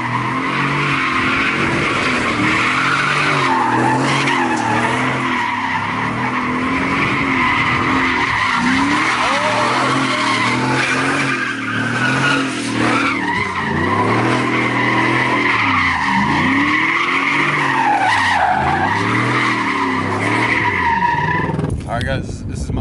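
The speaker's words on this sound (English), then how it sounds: "Attempt at swinging my brother's car." Tires of a Chevy Silverado truck squeal and skid in long, wavering bursts as it swings around in Mexico City, with the engine revving loudly underneath and voices heard at times.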